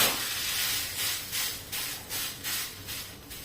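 Sabudana thalipeeth roasts in a little oil on a pan, giving a loud, continuous hiss that swells and fades in a rhythmic series of bursts.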